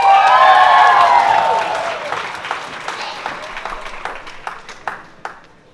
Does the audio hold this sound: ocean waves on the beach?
no